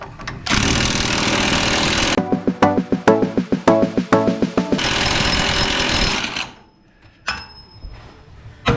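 An impact gun hammers at a stubborn fastener on a Ford Super Duty during a 6-inch lift install, loud bursts of rapid rattling separated by steady whirring runs, then cutting out to near silence.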